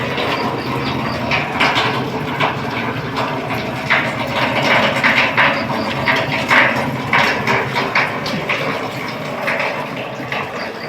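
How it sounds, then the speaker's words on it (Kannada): Heavy morning rain pours down steadily as a dense, even roar of falling water with no pauses, close and loud throughout. "ಮಳೆ ಸ್ಟಾರ್ಟ್ ಆಗ್ತಿದೆ ಫುಲ್ಲು"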